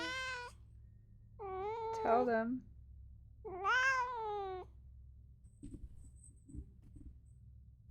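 Several drawn-out cat meows, each rising then falling, spaced a second or so apart, fairly close, with faint low background noise and a soft voice later.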